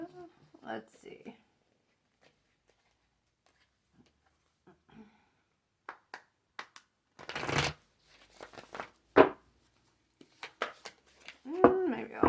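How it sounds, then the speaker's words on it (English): Tarot cards being shuffled by hand at close range in short papery bursts, with scattered riffles and soft handling noises around brief moments of talk. "Maybe I'll shuffle a little bit more."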